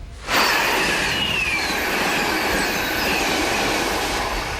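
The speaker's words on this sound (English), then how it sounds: "that's the sound every stranded passenger was waiting for as trains roared back to life in Claymont, Delaware" A train running on the tracks at Claymont, Delaware makes a loud, close, steady rumble of rolling wheels and cars, with thin squealing from the wheels layered on top for several seconds.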